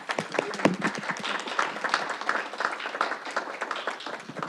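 Board members and attendees at a school board of education meeting applaud after a vote passes, steady moderate clapping from a small group in a room.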